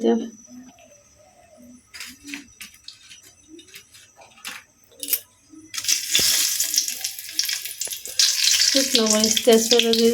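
Potato curry frying in a pan after dry five-spice seeds go in, a loud sizzle rising partway through and continuing to the end, with scattered clinks and someone speaking over it.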